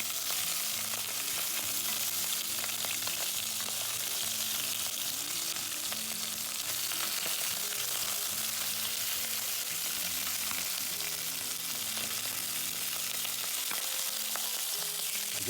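Shrimp fry in a hot pan for Spanish brothy rice, a dense, loud sizzle running continuously up close with faint stirring clicks and no talking.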